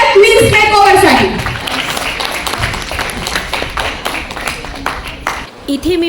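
A crowd applauds the models' makeover at the Shravan Queen 2024 pageant event. A voice is heard at the start, then loud, steady clapping carries on for several seconds before tapering off.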